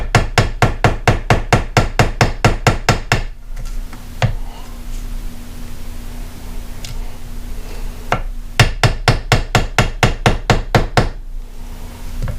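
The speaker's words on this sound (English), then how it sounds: "I'm just going to take a mallet." A mallet raps rapidly and evenly on a 1959 Johnson Super Seahorse 35 hp outboard, two bursts of quick sharp knocks separated by a quieter pause with a faint hum and a few isolated clicks.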